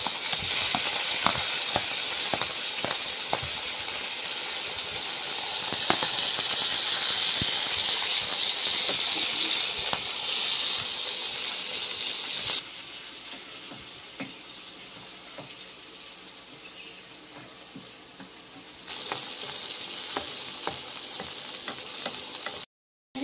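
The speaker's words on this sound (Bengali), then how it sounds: "পেঁয়াজ দিয়ে দিচ্ছি, টমেটো দিচ্ছি, লঙ্কা দিচ্ছি, ভেজে নিচ্ছি।" Chopped onion, tomato and chilli frying in a pan for a rohu fish curry with bottle gourd greens, a steady loud sizzle with scraping stirs that drops quieter midway, then returns.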